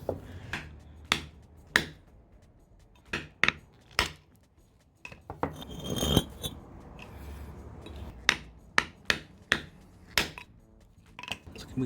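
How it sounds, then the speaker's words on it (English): A hammer strikes a chisel on a beach rock, giving a series of sharp, separate metallic clinks at an uneven pace. One louder, broader crack comes midway, with faint outdoor background between the strikes. "we're gonna crack that in half with a chisel and a hammer"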